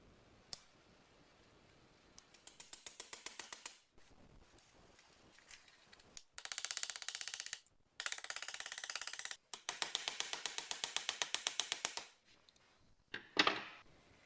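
Locking mechanism of a 60-year-old French Moulinette food mincer being reassembled, with bursts of rapid metallic clicking and ratcheting close up, separated by short quiet pauses and occasional single clacks.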